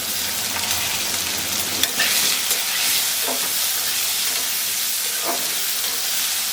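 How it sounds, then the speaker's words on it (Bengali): Potatoes with green and ripe chilies and salt frying in a pan, a steady close sizzle and hiss with occasional scrapes and knocks of a stirring spoon. "ভাজা ভাজা হয়ে গেছে সুন্দর"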